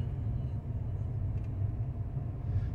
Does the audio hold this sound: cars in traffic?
yes